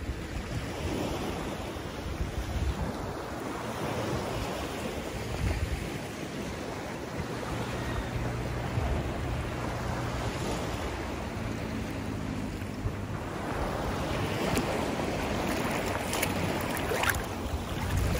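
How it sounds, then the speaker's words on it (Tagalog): Strong ocean waves crashing at a beach in the morning, a continuous loud roar of surf with rising and falling swells and wind buffeting the microphone, no voices. "Malakas yung alon."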